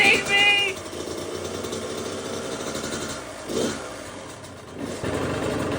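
A 2023 Kawasaki KX85 dirt bike engine runs with a steady, fairly close rumble and a faint whine at the start, with a couple of brief swells in level and a voice speaking over part of it.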